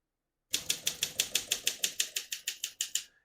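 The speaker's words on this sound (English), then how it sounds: "all the keys type nice and none of them skip or stick" Rapid run of about fifteen evenly spaced crisp key strikes on a 1959 Olympia SM3 portable manual typewriter, close and clear with no voices, each clack sharp and steady with nothing skipping or sticking.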